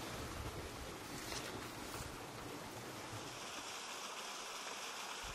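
Steady broadband rush of flowing river water nearby on the island of Flores, a continuous wash that carries on unbroken and fairly loud, with no voices.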